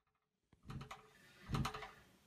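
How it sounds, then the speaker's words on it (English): A metal door knocker rattles against a door, shaken by banging from the floor above: a couple of brief clattering bursts after a near-silent start, moderately close and heard alone. "The sound you can hear is the door knocker vibrating because of banging upstairs."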